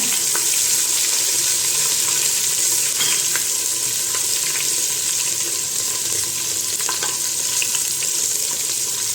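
Asafoetida, ginger and green chillies fry in hot oil with a steady, loud crackling sizzle throughout, broken by occasional small pops and spatters.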